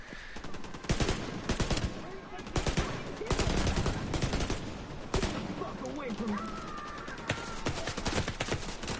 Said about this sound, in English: And there's gunfire outside.